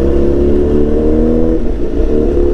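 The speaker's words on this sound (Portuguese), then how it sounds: "rodando de moto, atualmente com a BMW S1000XE." A BMW S1000XR motorcycle out on the road, its engine humming steadily and loud with a low rumbling tone and a slight dip partway before picking back up.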